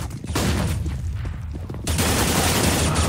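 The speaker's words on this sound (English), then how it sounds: "Throwing flashbang." A flashbang grenade and gunfire in a video game: dense, rolling bursts of shots and blasts fill the scene loudly, breaking off briefly before a second heavy wave of fire starts up.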